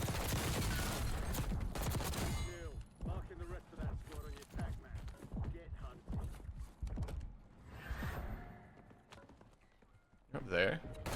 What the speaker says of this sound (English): just like all the other burst guns in this game, you can just hold down the right trigger to fire